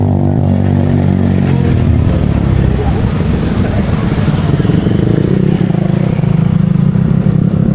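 Loud engine rumble throughout, rising and revving like motorcycles passing close by, with voices murmuring underneath, at Subic Bay Freeport Zone in the Philippines.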